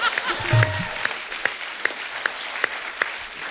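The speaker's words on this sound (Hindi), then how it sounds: "इनके लिए जोरदार तालियां।" Studio audience at a television comedy show applauds in a short burst of dense clapping, with a few louder sharp claps standing out at a steady rhythm.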